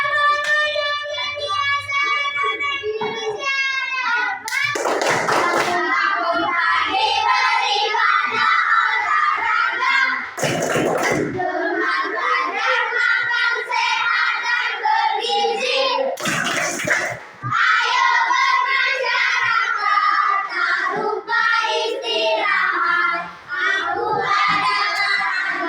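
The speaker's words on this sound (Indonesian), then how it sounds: "Kita tepuk 7 kebiasaan anak Indonesia." Classroom of Indonesian schoolchildren loudly chanting a rhythmic clapping song together, voices in unison with sharp bursts of group claps at intervals, close and lively throughout.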